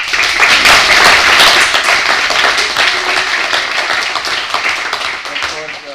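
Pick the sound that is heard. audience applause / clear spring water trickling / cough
audience applause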